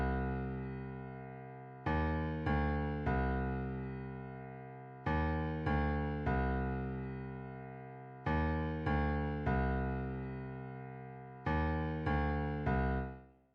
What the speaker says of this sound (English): I'm using the hard grand piano preset from X-Pen